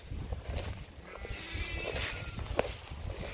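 Sheep and lambs bleat in a silvopasture field, several calls rising faintly to moderately over a soft outdoor background, with one sharper cry near the end and light rustling or footsteps.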